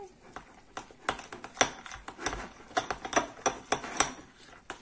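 A spoon clinks and scrapes against a bowl as whipped cream is stirred into a chocolate mixture for a chocolate entremet, with irregular sharp taps and knocks in quick, uneven bursts.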